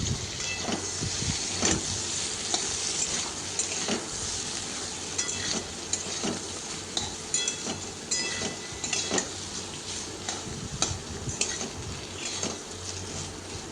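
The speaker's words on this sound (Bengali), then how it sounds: "দেখুন পটলগুলো খুব ভালোভাবে ভেজে নিয়েছি।" Pieces of pointed gourd (potol) fry in a pan with an even crackling sizzle, broken by repeated scrapes and clacks of a spatula stirring them, close and moderately loud, with no talk.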